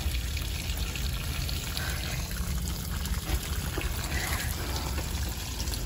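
Water drains steadily from a busted buried salt tank dug out of the ground, a continuous pouring trickle at close range with no talk over it.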